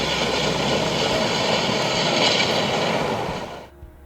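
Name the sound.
rocket liftoff at Kennedy Space Center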